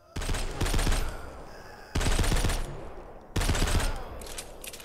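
Rapid automatic weapon fire in a post-apocalyptic shooter video game comes in three loud, close bursts separated by brief pauses, each rattling quickly and fading slightly at the end.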